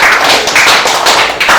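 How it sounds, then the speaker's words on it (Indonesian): A classroom group claps for the first student team after its presentation, a loud close patter of hands with a few uneven swells over a short stretch. "Ya, tepuk tangan dulu untuk kelompok 1."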